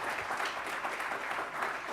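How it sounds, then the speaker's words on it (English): An audience applauds for sponsors at a live political conversation event, a steady, even patter of clapping from a moderate-sized crowd lasting throughout. "Would you please give them a generous round of applause?"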